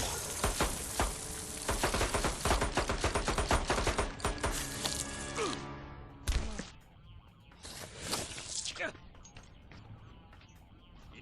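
Rapid pistol gunfire from a Mortal Kombat 9 story fight, a dense volley of sharp close shots that breaks off, then a few scattered bursts with game sounds after.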